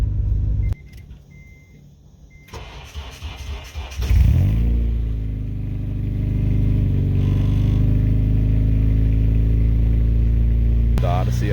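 A Honda Odyssey minivan engine revs through an aftermarket exhaust in a shop, starting after a few seconds of quieter clatter and then holding a loud, deep, steady drone close by.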